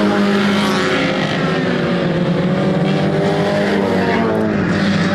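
Race cars thunder around Showtime Speedway during an Easter night 2024 race, their engines a loud, continuous, close-up roar with no break.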